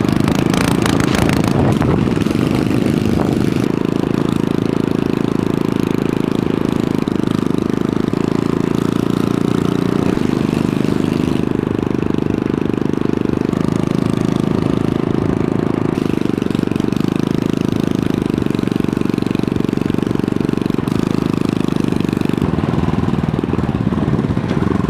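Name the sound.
motorcycle engine running, likened to a helicopter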